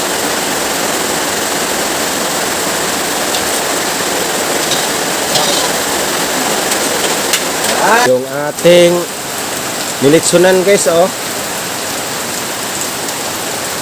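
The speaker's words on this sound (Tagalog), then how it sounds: "Basang-basa na, malakas na po yung ulan." Heavy rain pours down in a dense, steady roar throughout, with a person speaking briefly in the middle over the downpour during outdoor cooking for a birthday.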